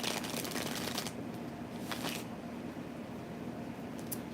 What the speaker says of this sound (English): I've been shuffling, nothing's coming out.